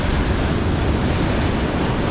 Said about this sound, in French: Il y a de la houle.